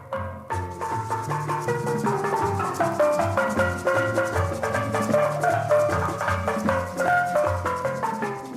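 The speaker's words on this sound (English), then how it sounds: "That is the sound of guys in white Navy uniforms playing Stars and Stripes Forever on steel pan drums." A Navy steel band plays Stars and Stripes Forever on steel pan drums, bright ringing pans carrying the march melody over a steady bass pulse, loud, full and continuous with no talking.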